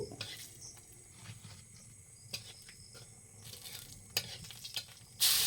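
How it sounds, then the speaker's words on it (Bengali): A bay leaf and one dried red chili fry in hot oil over a clay stove, making a faint, steady sizzle with a few sharp scrapes and clinks of utensils near the end. "এরপর গরম তেলে তেজপাতা এবং একটা শুকনো লঙ্কা দিয়ে"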